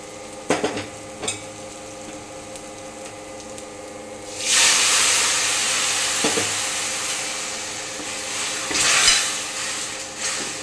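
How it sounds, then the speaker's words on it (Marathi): Tamarind pulp poured into a pan of frying taro leaves, a loud hissing sizzle bursting up at once and continuing, with a few utensil knocks before it and another surge near the end. "यामध्ये थोडा चिंचेचा कोळ मी कोळून टाकणार आहे"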